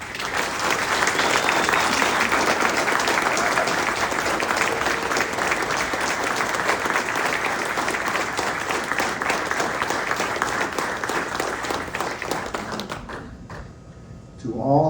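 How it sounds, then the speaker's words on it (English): Warm applause at a Navy retirement ceremony for a senior chief's family, a loud, sustained crowd of clapping hands that holds steady for about thirteen seconds, then fades as a voice begins speaking at the end. "please give a warm round of applause to the family of Senior Chief Woolsey who supported him"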